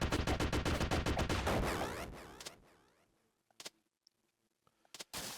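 Rapid bursts of machine gun fire from the video game Freedom Planet 2, a dense loud rattle for about two seconds that fades out, followed by a few scattered sharp shots and ticks in near silence.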